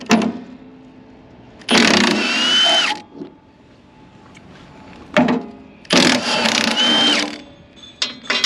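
A power tool, likely an impact wrench, removes the passenger-side step bolts on a Kenworth truck in two loud, close, ratcheting bursts of about a second each, with a quieter gap between them.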